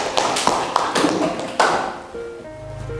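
Applause in a classroom: a short burst of several hands clapping in uneven taps, near and fairly loud, fading out after about two seconds into a quiet room hum.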